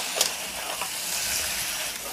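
Chicken frying in a pan for a spicy chicken curry gives a soft, steady sizzle with faint hissing steam and a couple of light stirring scrapes near the start, moderately close, no voices.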